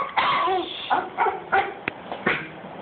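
A Yorkie yaps and barks in short, high bursts at close range, with a few whiny yips between, partly overlapping a person's voice.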